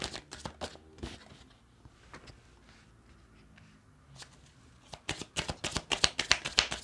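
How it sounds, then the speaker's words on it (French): Tarot cards being shuffled and dealt out for a reading: quick papery riffles and flicks at the start, a quieter stretch, then a rapid run of crisp card snaps and slaps as they are laid down, close and fairly loud. "je pose les cartes hein, pour pouvoir faire la lecture"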